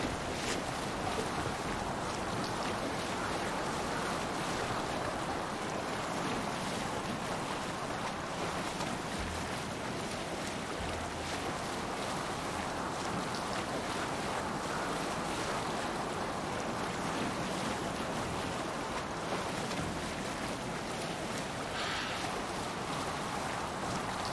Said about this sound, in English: Shall we raise the sail, Eivor? More Set sail!